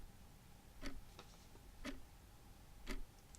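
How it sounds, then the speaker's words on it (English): Clock ticking in a quiet room at night, three sharp, evenly spaced clicks about a second apart standing out against a faint background hush. "The sound of that clock is so annoying."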